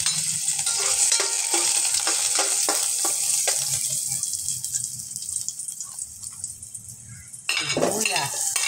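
Garlic sautéing in a pan for chicken misua with patola, a steady sizzle of frying with a utensil stirring and scraping against the pan, a louder burst of sizzle near the end.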